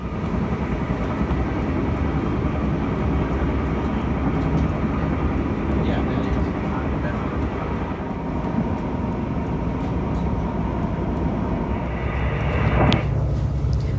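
A Brightline passenger train running at speed, heard from inside as a loud, steady roar and rumble that swells near the end.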